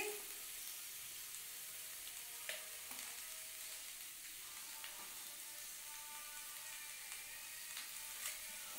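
Turmeric and cumin powder frying in a pan of hot oil give a steady broadband sizzle with a few brief clatters of stirring, fairly close and continuous.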